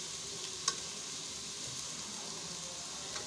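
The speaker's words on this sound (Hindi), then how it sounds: "और अब साथ ही इसमें मैं गरम मसाला ऐड कर दूँगी, ये लौंग वगैरह और छोटी इलायची और बड़ी इलायची," Whole garam masala spices, cloves and green and black cardamom, sizzle in hot oil in a pot for beef pulao: a steady, faint frying hiss with a few small pops.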